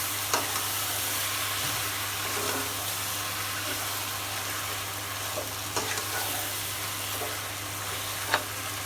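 Marinated beef tipped into a hot pot with crushed cinnamon, cloves and cardamom, frying with a steady sizzle while a spoon scrapes and stirs in occasional clicks.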